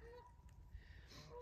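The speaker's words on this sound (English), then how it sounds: "you hear the geese in the background" Geese honk faintly in the distance over a quiet outdoor background, a few calls scattered across the short moment.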